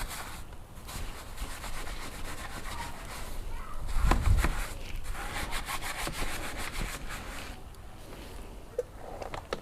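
A brush scrubs around the brake caliper of a car wheel during wheel cleaning, a steady close rubbing swish that continues throughout with a brief louder scrape partway through.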